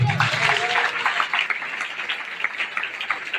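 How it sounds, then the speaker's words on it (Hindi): Applause from a church congregation after a preacher's message, a dense, steady patter of many hands at moderate loudness for the whole stretch, with some vocal sounds mixed in. "इस वचन से आप प्रभु के लिए जोर ताली बजाओ"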